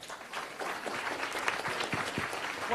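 An audience claps to welcome a guest speaker onto the stage, a moderate wash of applause with a few sharper individual claps and some faint voices mixed in.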